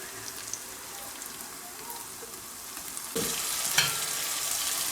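A soft crackling sizzle fills the clip, then grows louder and busier partway through as wet tomato paste hits the hot pan of fish karahi.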